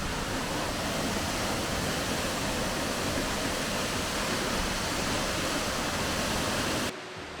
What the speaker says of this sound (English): I wasn't expecting the waterfall to be that big.